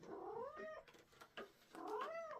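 A cat gives a drawn-out, wavering meow, then some softer rustling, then a second long meow, all close by and fairly quiet.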